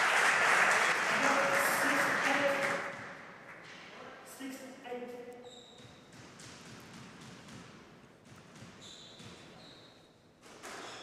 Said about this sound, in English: foule derrière David qui l'encourage à un point crucial de la partie après un long échange assez épuisant